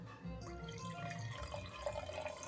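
Wine poured into a glass, a close liquid trickle and dripping splashes with a rising gurgling tone as the glass fills, quiet and without talk.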